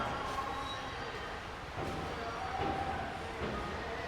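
Steady rumbling goods train noise with continuous broadband roar, a faint high squeal now and then, constant and fairly close throughout.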